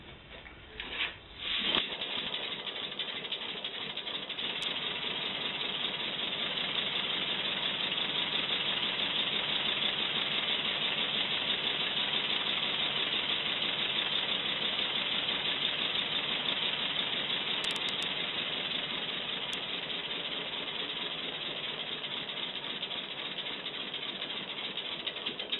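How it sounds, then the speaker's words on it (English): A small homemade air engine runs steadily and continuously, a dense mechanical whir with no pauses, close by and fairly loud throughout. "Latest version of my air engine."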